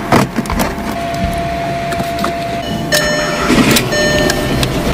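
A car engine cranks and starts after a week of repairs with a replacement computer and used key, a loud mechanical rumble with clunks and whirring over steady background noise.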